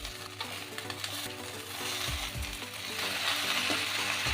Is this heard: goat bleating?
no